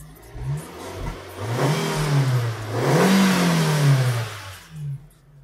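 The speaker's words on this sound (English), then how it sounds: "That is definitely revving better." A Vauxhall Tigra engine with a newly fitted mass airflow sensor revs twice in swelling, rising-and-falling roars close by, with idling rumble between and a short blip at the end.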